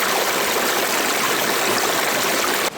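A river rushes steadily beside a backcountry campsite, a loud, continuous broadband flow with no voices, dropping abruptly in level just before the end.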